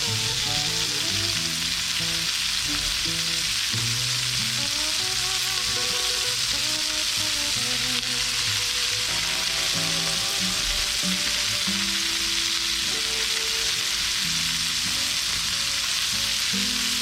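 Pork and vegetables softening in a pan for green chile, a loud continuous close sizzle with faint clinks and stirring sounds, under quiet background music.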